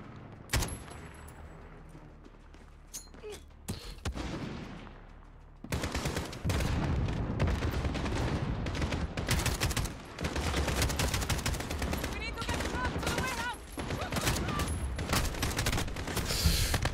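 Dense gunfire in the video game Call of Duty Modern Warfare: scattered shots at first, then sustained rapid automatic bursts and heavy volleys, loud and close, with brief pauses between flurries.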